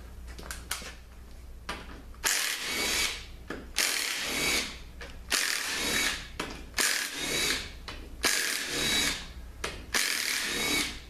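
Power tools whirring in repeated bursts while the manifold switch comes off a 4T45E transmission with a blown differential during teardown, with short pauses and clicks between runs, no talking.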